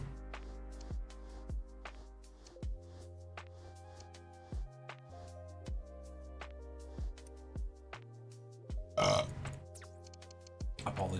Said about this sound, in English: Sometimes you have to belch.